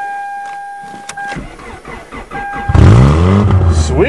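A foreign car cold-starting on a snowy winter day: the starter cranks for a few seconds, then the engine catches with a loud, rough burst and settles into a steady idle close to the microphone.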